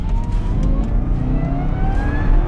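A 2013 Cadillac CTS-V pulls hard from the cabin, its engine drone building steadily with a rising tone as it gains speed toward 70 mph, loud and continuous with no talk.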